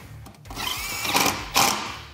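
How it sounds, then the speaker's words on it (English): A power drill driving screws into the factory holes of a skid plate on a Can-Am Defender UTV whirs in short bursts, speeding up and cutting off twice, close by with no talking. "we'll go ahead and we'll shoot our rear screws in here, the factory holes"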